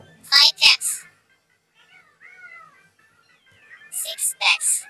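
A cat meows in a few short, faint calls between stretches of a voice speaking close by, the meows sitting quietly in the gap between the spoken words.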